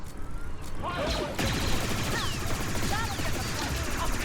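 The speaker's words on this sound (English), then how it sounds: "just blasting some stormtroopers" Rapid blaster fire rattles through a Star Wars Outlaws firefight against stormtroopers, dense repeated shots layered with whizzing energy bolts and combat noise, with voices calling out over the action.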